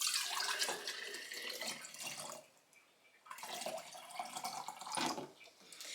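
Strained homemade deer broth poured into canning jars, a steady splashing liquid stream running in two bursts with a short pause between, close and moderately loud with no talking.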